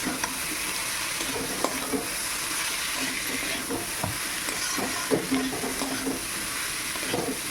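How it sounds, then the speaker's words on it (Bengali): Peas and cabbage tossed into fried spices in a village kitchen pan, a steady low sizzle with repeated scraping and clattering stirs, fairly close and without talk. "মশলাটা ভাজা হয়ে গেছে, আমি মটরশুঁটি আর বাঁধাকপিটা দিয়ে দিলাম"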